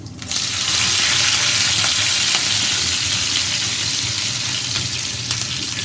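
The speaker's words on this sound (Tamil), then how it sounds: "கருவேப்பிலை கொஞ்சம் கிள்ளி போடுங்க." Curry leaves hit hot oil already holding mustard seeds, urad dal and cumin, setting off a loud, dense burst of sizzling and crackling that holds steady and close throughout.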